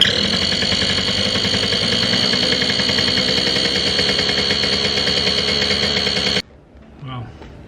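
A narrowboat engine runs loud and steady with a rough, rattling mechanical drone, then cuts off abruptly near the end, followed by a short quieter stretch with a faint voice.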